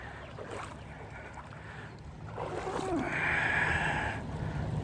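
Wading through deep, cold flood water inside a flood tunnel in Harlan County, Kentucky, with steady sloshing and splashing close by that grows louder midway, plus a sharp breath near the end.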